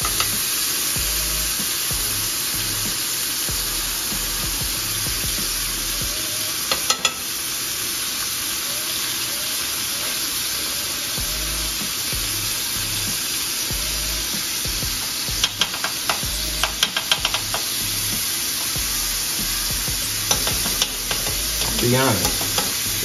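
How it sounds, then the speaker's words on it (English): A New York strip steak butter-basting in a hot pan: a steady, close sizzle and frying hiss runs throughout, with occasional spoon scrapes and spatters, and no talking. "Like I said, it's like butter basting"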